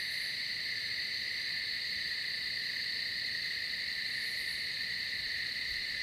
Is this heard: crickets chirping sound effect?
yes